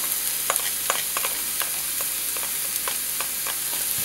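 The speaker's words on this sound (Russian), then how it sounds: "Теперь добавляем чеснок." Garlic sizzles in a pan with golden fried onions for an Indian chicken curry, a loud, even frying hiss broken by regular light stirring clicks.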